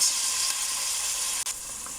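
Chopped onions fry in a hot pan for a curry, giving a loud, continuous sizzle with a steady hiss and one brief dip near the end.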